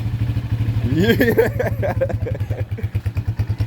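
A motorcycle engine idles with a steady low pulse, then revs up briefly with rising, swooping pitch before settling back to a throbbing idle, close and fairly loud.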